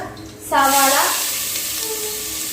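Curry leaves, ginger and dried chilies hit hot oil for broken wheat upma, a sudden loud burst of sizzling that settles into a steady crackling fry with a voice speaking.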